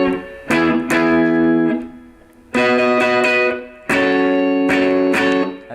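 Electric guitar strums the chorus chords of a song with a distorted, effects-laden tone, playing three or four sustained ringing chord phrases that each fade before the next strum, with no one talking.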